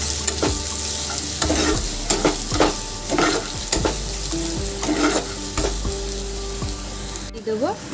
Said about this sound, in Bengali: রসুনটাকেও আমি হালকা ভেজে নেব।